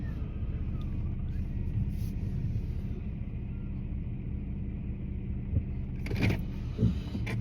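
A car slowly backing into a parking space, a steady low engine rumble throughout with a few soft thumps and clicks near the end.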